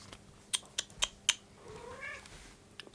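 A cat named Snowy gives a brief meow near the microphone, after a quick run of four sharp clicking taps. Faint background noise continues underneath.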